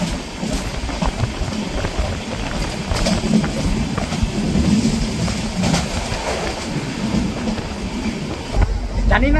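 Tamralipta Express train (12858) running between Digha and Howrah, a steady low rumble of wheels on rails with rhythmic clatter throughout, carriage noise filling the whole span at constant loudness.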